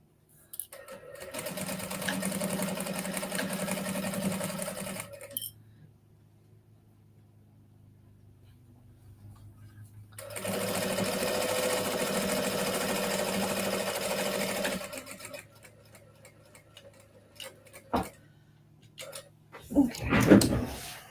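Sewing machine stitching a faux leather tote bag with a larger stitch length, running in two steady bursts of about four to five seconds each with a quiet pause between them, then some brief handling clatter.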